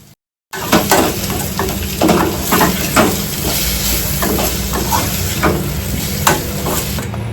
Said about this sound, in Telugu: ఒక 3 minutes అయితే ఫ్రై అవ్వనిద్దాం